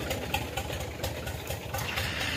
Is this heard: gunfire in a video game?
no